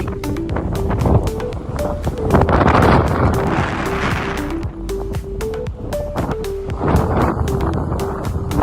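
Strong wind blowing on a beach at Virar, buffeting the microphone in loud gusty rumbles, with faint tonal sounds over it and no talk.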